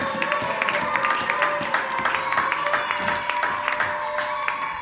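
A church congregation applauding the Lord, steady rhythmic clapping from many hands in an indoor hall, with voices and singing tones carrying over the claps.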